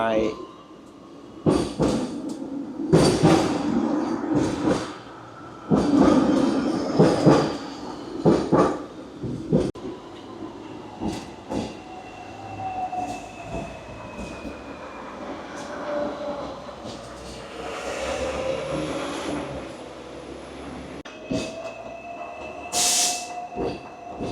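A Hong Kong tram running late at night from Shau Kei Wan toward Happy Valley, with rhythmic clunks and rattles over the rails, rising whining hum and squeals as it moves, while people talk on board.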